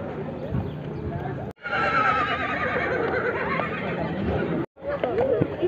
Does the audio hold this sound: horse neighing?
yes